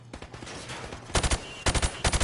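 Call of Duty 4: Modern Warfare training range, a weapon firing at targets through wooden plywood panels: a short run of quieter shots, then two loud rapid bursts of automatic gunfire, close and sharp.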